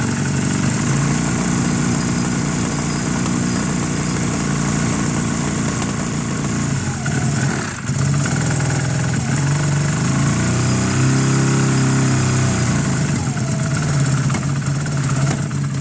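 A Honda CB250 bobber project motorcycle, running without a choke, idles steadily and close up on both cylinders, a continuous loud engine hum with a slight rise in pitch midway.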